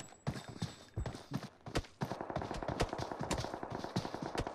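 Rapid bursts of gunfire in the battle game PUBG during a hacker squad versus hacker squad fight, dense cracking shots in quick irregular clusters that thicken into near-continuous firing.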